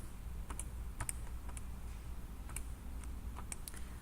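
A value is typed into a calculator or computer as a quiet series of separate key clicks, about a dozen irregular taps over a low steady background hum.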